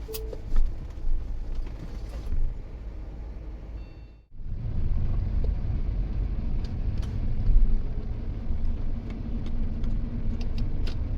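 A Tesla car travels on a Hong Kong road, heard as a steady low rumble of tyres and road noise from inside the cabin, with a brief door-closing thump near the start.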